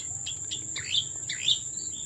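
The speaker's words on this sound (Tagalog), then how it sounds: "narinig ko ulit yung huli ng ibon" A couple of sweeping, chirpy bird calls ring out against a steady high insect drone in a vegetable garden, fairly close and clear.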